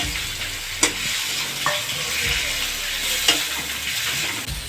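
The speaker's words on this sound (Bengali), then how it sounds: "এখন আমি ডিমগুলো দিয়ে আবার কষিয়ে নেব" Boiled eggs stir-fried in a spiced masala in a pan, a close, steady sizzle broken by a few sharp scrapes and clanks of a spatula stirring the pan.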